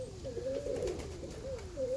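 Birmingham roller cock pigeons cooing inside a loft: low, rolling coos that rise and fall, repeated twice in close succession, fairly near and clear, no voices.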